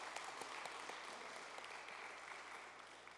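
Congregation applauding in thanks inside a church sanctuary at an Easter service, a steady wash of many hands clapping for a few seconds, moderately distant and fading slightly toward the end.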